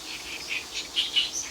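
Soft, high chirps and tweets from birds nearby in a lotus field, a few short calls in quick succession over a faint steady outdoor hiss.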